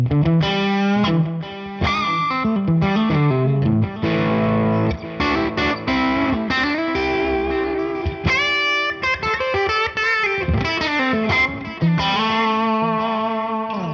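A distorted electric guitar through a ToneX One pedal with delay plays a flowing melodic line, each note trailed by repeating echoes that smear into a thick, shimmering wash.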